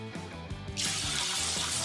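Room-temperature water runs from a tap and pours into a container for pizza dough, the stream starting with a hollow filling tone and then rising to a steady hiss.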